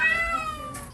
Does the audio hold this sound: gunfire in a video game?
no